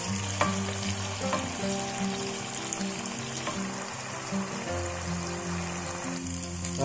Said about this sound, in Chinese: 一面煎好，反面把它另外一面煎一下